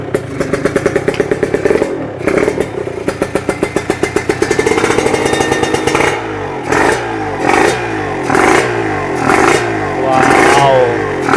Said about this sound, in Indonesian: Suara mesinnya guys, motor harian. Knalpotnya pakai CMS1,